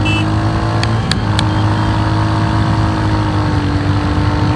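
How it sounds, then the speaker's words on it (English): A Royal Enfield Hunter 350 motorcycle is being ridden, its engine giving a steady, close, loud drone with a few brief clicks early on. No one speaks over it. "And now let's see the performance of this motorcycle a bit over here."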